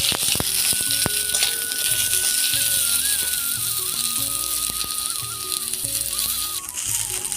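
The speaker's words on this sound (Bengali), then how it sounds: "প্রথমে পটলগুলো ভালোভাবে ভেজে নেব।" Pointed gourd pieces frying in white oil in a hot wok: a loud, continuous close sizzle with occasional light clatter from stirring and turning.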